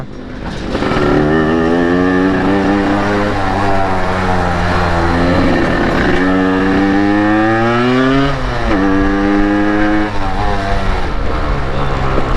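Two Yamaha RX motorcycles are on a night ride, their engines loud and close. The revs climb and fall repeatedly in strong, rising whines, with no voices over them.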